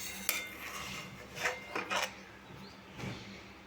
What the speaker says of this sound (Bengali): পাশে যে দুধের এই সরটা লেগে গেছে এগুলো এভাবে ছাড়িয়ে দেব।